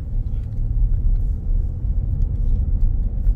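A driving simulator car engine accelerating on a straight with a shift into third gear, a steady low rumble that holds near and loud throughout.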